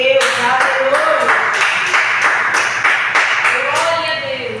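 Church congregation clapping hands in praise, loud and rhythmic, with regular beats running under singing or chanting voices throughout.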